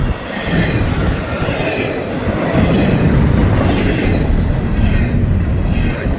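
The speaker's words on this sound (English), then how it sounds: "this is the train out of Miami" Florida East Coast freight train out of Miami rolls past loaded with Seaboard Marine containers, a steady, loud rumble of wagons with faint clatter throughout.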